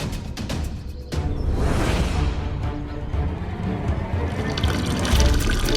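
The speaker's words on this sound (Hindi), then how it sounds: "खाना बनाने के लिए जितना पानी बचा था ना, सब बहा दिया।" Water emptied out of a half-full clay pot meant for cooking: after a brief lull, a loud, continuous gushing splash starts and runs steadily for several seconds, close by and without speech.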